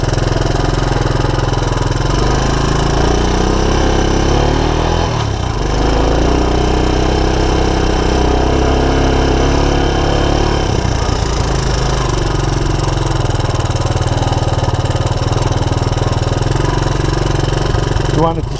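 A cold 40-year-old Honda Big Red ATC200ES three-wheeler idles after a key start, its engine chugging continuously and loudly up close while someone talks over it.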